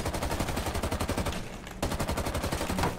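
Rapid automatic gunfire in Rainbow Six Siege rattles in loud, continuous bursts, with a brief lull in the middle before the firing resumes.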